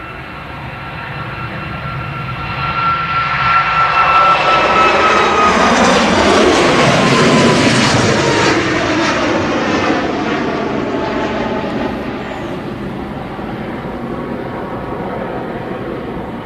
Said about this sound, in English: This is the Ryanair to Gothenburg.